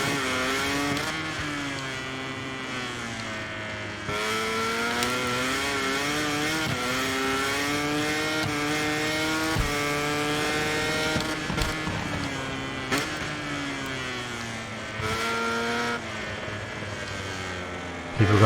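A Honda MotoGP racing bike screams around the Misano circuit in the MotoGP 24 video game in wet qualifying. The engine note rises and falls steadily through gear changes and stays loud and close for the whole stretch.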